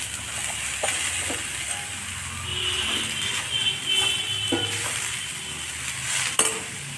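A pitha filling of coconut and milk is stirred in a pan, with soft scraping, scattered clinks of the utensil against the metal and a faint sizzle underneath, steady and close.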